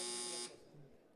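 A loud, steady electronic buzzer drones at a pitch-rich tone during a business pitch panel, then cuts off abruptly after about half a second, leaving quiet room tone with faint murmuring.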